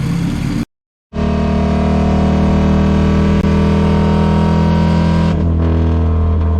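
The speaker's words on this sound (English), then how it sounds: "I'm gonna drive this thing home without an air cleaner" A Saab Sonett is driven with no air cleaner fitted after a condenser fix. The engine gives a loud, raw, steady drone close to the listener, broken by a brief cut-out near the start.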